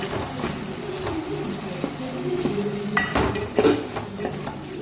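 Onion masala frying in a pan for chicken curry as garam masala and chicken masala are stirred in, a close steady sizzle with repeated scraping stirs and a few sharper clanks of the spoon against the pan.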